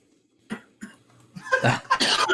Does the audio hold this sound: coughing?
yes